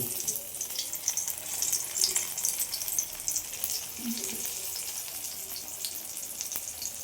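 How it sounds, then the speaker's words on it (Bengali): Small topse fish fry in hot oil, a quiet, continuous sizzle with scattered pops and some faint watery background noise throughout. "এই কটাও আমার ভাজা হয়ে গেল"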